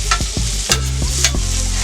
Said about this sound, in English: Potatoes are cooking up nice. Onion coming out nice.